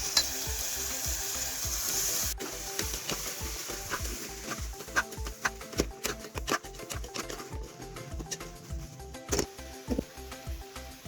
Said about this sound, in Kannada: ಈಗ ಕುದಿಸಿದ ಅವರೆಕಾಯಿನ ಹಾಕೊಂಡು ಬರ್ರಿ ಅದ್ರಾಗ.